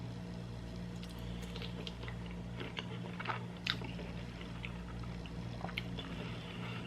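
Someone bites into hot shrimp and chews, making soft, close crunching and smacking sounds faintly over a steady low hum.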